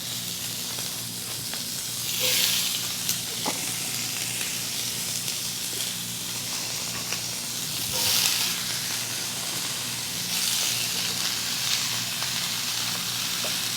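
Sliced asparagus and diced zucchini hiss and sizzle in a hot pan with chicken juices, a steady close frying crackle that swells in a few louder surges.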